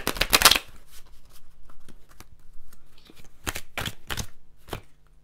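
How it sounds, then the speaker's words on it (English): Tarot cards being shuffled by hand, with a loud riffle at the start followed by scattered softer flicks and a few sharper riffles, close up and with no speech. "I'm going to do a big girl shuffle"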